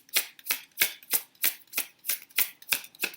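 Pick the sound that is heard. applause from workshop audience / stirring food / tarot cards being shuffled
tarot cards being shuffled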